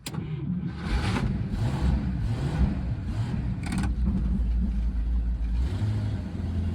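A 1958 Plymouth without power steering, its engine idling and rumbling low and close as the car is moved, with a few clicks and clunks over the steady drone.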